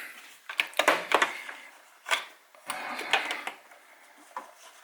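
A sewing machine runs stitches hard along the edge of a wool Loden cover in several short bursts, each a quick rattling whir split by brief pauses, close and fairly quiet.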